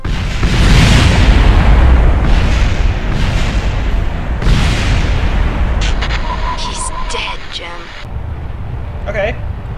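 A rocket in Kerbal Space Program crashing and blowing up with a loud, deep booming roar and rumbling bursts. Electronic tones and beeps follow as the blast fades.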